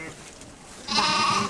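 Sheep bleating on a rural Hungarian farmstead near Mezőcsát, a loud sustained bleat in the second half of the clip, with speech and ambient noise around it.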